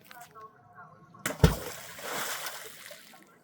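Something dropped into water inside an abandoned building lands with a single sharp splash, followed by a short wash of sloshing; a voice speaks faintly before it.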